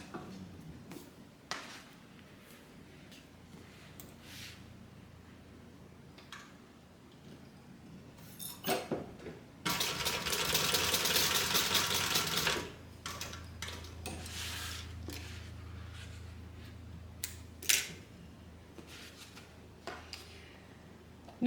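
A home sewing machine basting a strap connector onto the bottom of an AllyBee bag runs in a steady buzzing burst of about three seconds midway, then idles lower amid scattered clicks and handling of fabric.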